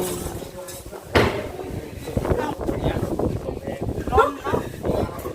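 Wind buffets the microphone outdoors in gusty rumbling waves while people talk over it, with a brief knock partway through.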